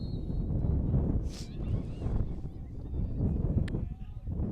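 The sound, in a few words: gusting wind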